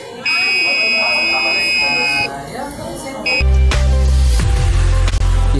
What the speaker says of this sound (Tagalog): the buzzer should sound when a flashlight shines on the LDR